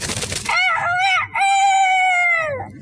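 A Foley artist's voice imitates a big rooster: a brief rough flutter for flapping wings, then a long, loud, clear crowing call that rises and falls, with a short break mid-crow.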